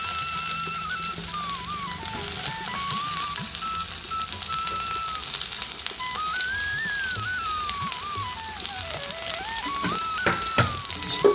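Garlic and onion fry with fennel seeds in hot oil, a steady crackling sizzle like light rain that carries on throughout, with a thin wavering whistle drifting above it and a couple of knocks near the end.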